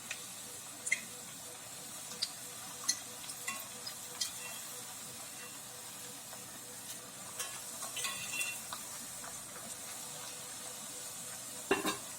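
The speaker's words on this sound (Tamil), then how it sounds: "இது அப்படியே எடுத்து எண்ணெயில போட்டுடலாம்" Soft, steady sizzling of rice-flour thattai dough frying in oil, with scattered small pops and crackles, faint and continuous throughout.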